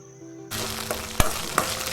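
Ginger and garlic hit hot oil in a pan for a chicken gravy, a sudden loud sizzle that then holds steady, with a couple of sharp clinks from stirring against the pan.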